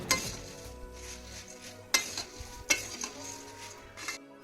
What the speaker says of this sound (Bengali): এইবার সমস্ত মশলাটা একদম নিভু আছে ভালো করে মুড়ির মধ্যে মাখিয়ে নেবো